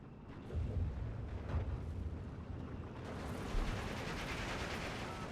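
Artillery shells from the Steel Division strategy game rumble and crash as deep, continuous explosions. The heavy low roar swells midway and carries on densely to the end.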